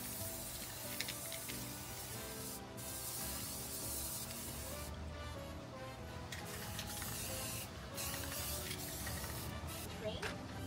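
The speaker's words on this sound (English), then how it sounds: "I want to spray paint, I think, the track and the train gold this time" Gold spray paint hisses from an aerosol can in short and longer bursts, with brief gaps between sprays, against a steady background.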